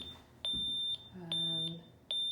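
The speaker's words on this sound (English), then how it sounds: "we have an alarm that we're going to want to turn off." Door security alarm keypad at an entrance emitting sharp high electronic beeps in a steady repeating pattern, about five chirps, close and clear, while a person talks quietly underneath.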